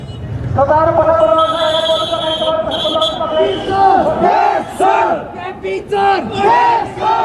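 A large crowd of protesters heading toward a parliament complex under curfew shouts and chants in loud, sustained, overlapping voices close by, with rising and falling cries.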